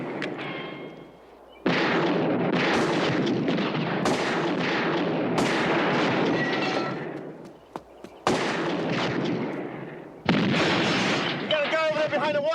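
Gunshots fired on a highway at a police emergency scene, including a shotgun, sound as loud, heavy bursts and blasts that fill most of the stretch, with short gaps between volleys.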